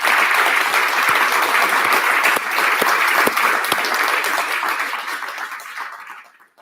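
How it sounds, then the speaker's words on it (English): An audience gives a warm round of applause for panelists, with dense clapping and a few sharp individual claps standing out, gradually thinning and fading to quiet by the end. "Could you give them a big round of applause for their insights?"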